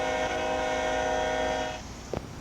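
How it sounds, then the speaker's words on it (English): Ex-Via Rail P40-2 diesel locomotive horn in the Train Sim Pro game, a loud sustained multi-tone chord blast that holds for nearly two seconds, then cuts off into a quieter engine rumble with a short knock. "This is an ex-Via Rail P40-2 locomotive"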